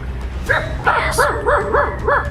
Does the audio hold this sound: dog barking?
yes